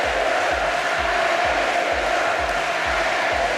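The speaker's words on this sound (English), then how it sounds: "there are chants of Allez les Bleus all around the venue" A packed Paralympic swimming arena in Paris rings with home fans chanting Allez les Bleus, a loud, rhythmic crowd chant with steady pulsing beats repeating about every half second throughout.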